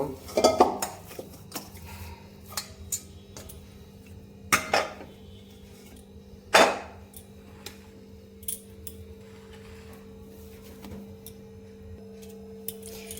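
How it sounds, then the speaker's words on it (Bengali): A knife cuts risen flour dough into portions on a board, giving a few sharp clicks and knocks at irregular intervals against a quiet background hum, with no talk. "এইভাবে ছুরি দিয়ে কেটে কেটে এটা লেচিগুলো বানিয়ে নেব"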